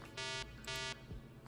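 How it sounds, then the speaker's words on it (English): Alarm going off in a flight simulator video game: two electronic buzzing tones, each about a quarter second long, with a brief gap between them, set over a steady engine-like hum. "That's the alarm I was looking for."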